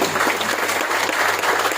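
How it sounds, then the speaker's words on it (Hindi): Steady, dense applause from a seated audience, loud and continuous, with a faint low hum running beneath the clapping. "ऐसे मेरे proud NTC mister Ramesh Jipkate sir के लिए जोरदार तालियां होना चाहिए"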